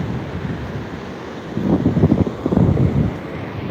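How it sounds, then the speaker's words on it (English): Ocean waves crash on a rocky agate beach, a rising surge of surf breaking close by under gusty wind buffeting the microphone. "The sound of the waves and the waves crashing"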